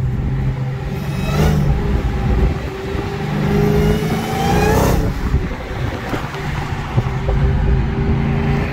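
A demon-powered Dodge Charger SRT Hellcat pushes through highway traffic, its engine rumbling and surging in repeated revving swells, loud and close from inside the car with wind and road noise underneath.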